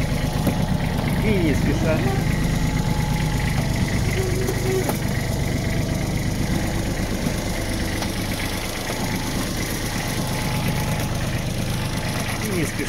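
Kubota Aste A175 mini truck engine idling steadily with a low, even rumble while the vehicle reverses off a parking brake, someone talking over the running engine.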